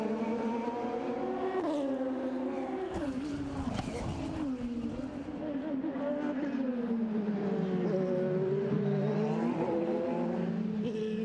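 Several race cars in an ALMS sports car race accelerate hard together at a green-flag restart, a loud continuous engine roar with rising and shifting pitch as the pack builds speed, a commentator's voice running over it.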